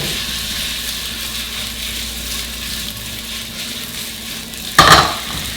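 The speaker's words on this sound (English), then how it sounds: "And shake your pan." Food fries in a pan on medium-high heat with a steady close sizzle, and the pan is shaken, giving a sharp clattering scrape near the end.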